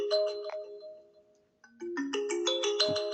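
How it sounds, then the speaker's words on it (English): A phone ringtone from an incoming call plays a clear electronic tonal melody nearby, dropping out for a moment before starting again louder with a livelier stepping pattern. "I got a phone call there."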